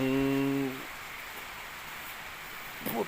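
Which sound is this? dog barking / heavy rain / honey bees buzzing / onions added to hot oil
heavy rain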